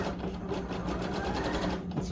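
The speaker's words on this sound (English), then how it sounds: "as I'm sewing along" A sewing machine stitches satin-type or spandex fabric in a rapid, even mechanical rhythm, running steadily and fairly close for the whole short stretch with no talking.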